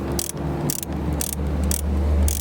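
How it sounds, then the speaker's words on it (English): A ratchet works 10mm bolts back in on either side of the factory screen in a 2012-2015 Lexus LX dashboard, giving regular bursts of crisp clicking about twice a second over a steady low hum. "we will reinstall these 10mm bolts on either side of the factory screen"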